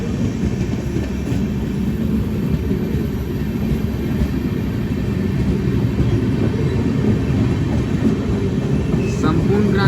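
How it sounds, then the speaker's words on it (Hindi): Sampoorna Kranti Express running alongside on a parallel track and overtaking near Prayagraj, a loud, close, continuous rail rumble with steady wheel roar that holds without a break throughout. "संपूर्ण क्रांति पैरेलली ओवरटेक कर रही दोस्तों प्रयागराज से पहले।"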